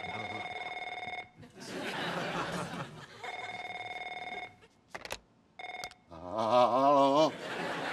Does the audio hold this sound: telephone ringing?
yes